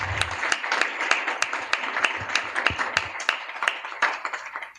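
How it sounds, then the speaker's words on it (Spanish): Scattered, crisp clapping from a modest audience closing a Latin American panel on digital journalism, individual claps distinct and irregular, fairly close and moderately loud. "un aplauso puesto a una clase magistral de gente crack."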